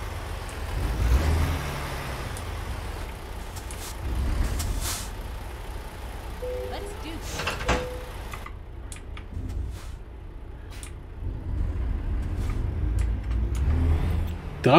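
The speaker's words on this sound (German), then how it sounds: "Der LKW klingt irgendwie gerade ganz komisch." A heavy truck engine in American Truck Simulator drones and rumbles steadily, with hissing air-brake bursts and a few clunks, alone without any voices.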